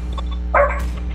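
A single short dog bark, fairly close, stands out against a steady low electrical hum.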